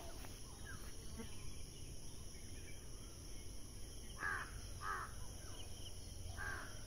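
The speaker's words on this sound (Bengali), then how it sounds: "কাক ডাকছে।" Crow calls ring out in a Bengali village in the morning, a few short caws in the latter half over quiet rural ambience with faint insect buzzing.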